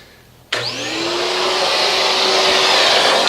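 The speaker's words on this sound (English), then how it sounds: "I'm going to take my vacuum" A vacuum cleaner switches on abruptly and roars steadily as it sucks up Bermuda grass clippings from a 2019 Wright 36i stander mower, its whine rising slightly as the motor spins up and then holding a loud, close, constant rush.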